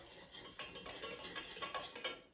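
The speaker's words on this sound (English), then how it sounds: "I'm gonna just stir that for a minute" Quick metal clinks of a spoon against a pan as flour is stirred into a chicken cordon bleu casserole mixture, a rhythmic series of about a dozen close, fairly quiet scrapes and taps with no talking.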